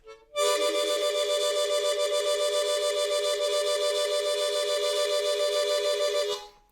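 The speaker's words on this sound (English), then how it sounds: "mimic the same thing by moving your tongue laterally," A harmonica holds a single loud, close, sustained tone shaken by moving the tongue side to side, giving a fast even pulsing warble for about six seconds before stopping.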